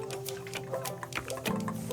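Hot water pours in a thin stream over coffee grounds in an April pour-over brewer, for an El Salvador Los Pirineos special fermentation coffee. It sounds like a steady, close liquid trickle with soft dripping underneath.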